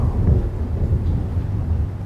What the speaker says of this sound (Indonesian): Pada dengar petir semua?